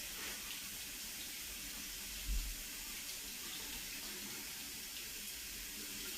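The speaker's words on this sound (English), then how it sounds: "once you feel like the water is running clear" Tap water runs steadily into a sink while makeup brushes are rinsed under it, a soft continuous broadband hiss with one brief low thump midway, fairly quiet and with no voices.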